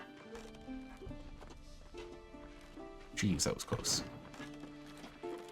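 Ponies running in the video game WarTales, with a brief burst of galloping hoofbeats over background game music, while someone speaks over the action.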